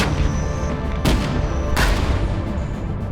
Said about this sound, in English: We engage fire from the cannon,